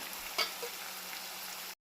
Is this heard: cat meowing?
no